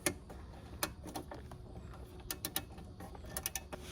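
Small ratchet screwdriver clicking in irregular bursts while turning a screw behind pulled-back molding in a 1987 Foxbody Mustang GT, quiet and close with no talk.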